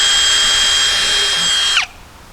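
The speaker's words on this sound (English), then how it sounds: "we'll drill a hole" A power drill boring a hole while installing flat parts, a loud, close, steady high-pitched whine that runs for nearly two seconds before spinning down quickly into near silence.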